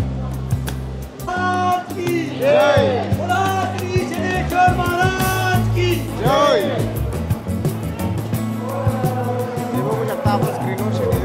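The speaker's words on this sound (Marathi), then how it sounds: "आज खूप सारी गर्दी आहे." A large, dense crowd gathers at a Shani temple on Shani Amavasya, a loud continuous hubbub of many voices with chanting, devotional singing and passing traffic mixed in throughout.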